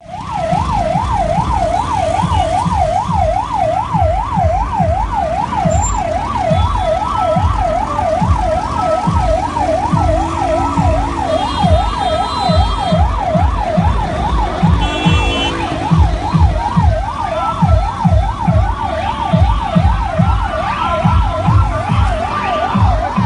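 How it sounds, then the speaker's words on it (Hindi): Ambulance siren wailing in rapid, regular up-and-down sweeps, loud and close, stuck in road traffic, with engine rumble and passing vehicles underneath and no talk. "एम्बुलेंस को रास्ता फराहम करने के मौक़ में नहीं था"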